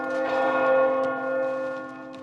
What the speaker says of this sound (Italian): ecco le campane, perfetto